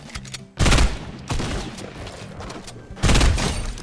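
Burst assault rifle firing in Fortnite Mobile, loud close bursts of rapid shots separated by short pauses, three distinct volleys over a few seconds with no talking.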